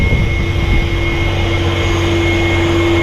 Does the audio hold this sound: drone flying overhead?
yes